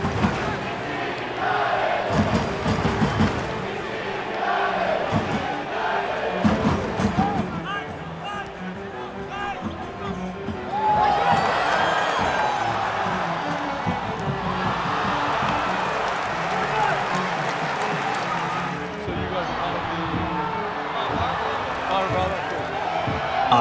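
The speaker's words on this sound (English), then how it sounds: "crowd is buzzing" Soccer fans at a DC United match against the Colorado Rapids fill the air with a steady crowd murmur and occasional swells of shouting, while a person talks over it.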